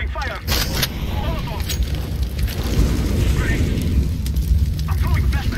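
An incendiary grenade in CS:GO on the Dust 2 map bursts into a loud, roaring rush of fire that keeps burning steadily, with players' voices over it.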